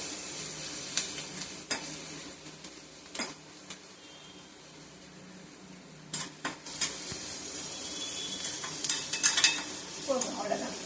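Chopped vegetables for egg podimas sizzle lightly in a pan, with a spoon scraping and clinking against the metal in bursts as they are stirred and sautéed.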